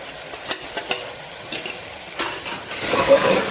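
Minced meat fries with chilli, coriander, salt and turmeric as a spoon stirs it. Scraping strokes sound over a sizzle that swells louder toward the end.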